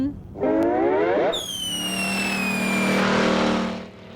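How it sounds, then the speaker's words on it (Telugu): An animated cartoon car zooms off, its engine revving up with a rising whine and then holding a steady, loud, high-pitched drone that fades out near the end. "కారు వెళ్ళిపోతుంది, త్వరగా రా మోటు."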